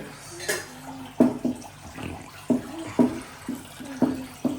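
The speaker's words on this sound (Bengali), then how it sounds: "ধুয়ে ফেলো ভালো করে ধুয়ে ফেলো বাবা" Water runs from a tap as a child washes hands at a sink, splashing in uneven bursts, with an adult's voice speaking nearby.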